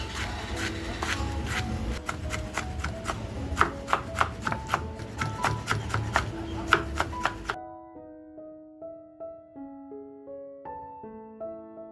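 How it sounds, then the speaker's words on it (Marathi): A knife chops onion, tomato and potato on a board in quick, regular close strikes for several seconds, then gives way to soft melodic music tones. "कांदा, टॅमॅटो आणि बटाटा मस्त असा कापून घ्यायचा आहे."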